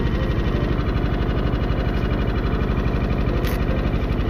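A go-kart engine, fired up with an electric starter at a circuit, runs at a steady idle, giving a loud, continuous low-pitched throbbing rumble with no talk over it.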